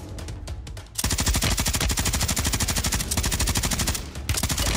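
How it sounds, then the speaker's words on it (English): Rapid automatic gunfire in the Warzone battle royale video game, a loud, steady stream of close shots rattling for several seconds with a brief break near the end before resuming. "Why are you shooting at me"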